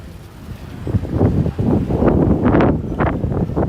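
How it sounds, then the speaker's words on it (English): Wind gusting on 5th Avenue in Manhattan, a steady rushing buffet across the microphone that swells and surges over nearly four seconds, loud and close with no talking. "A little breezy over here as well."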